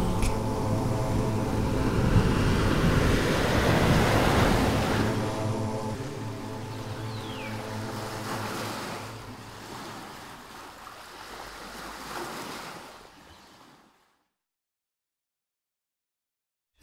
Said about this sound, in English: The crashing waves of a distant sea